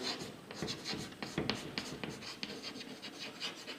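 Chalk or marker writing on a board during an organic chemistry lesson, a steady run of scratchy strokes and taps, close and clear with no talk over it.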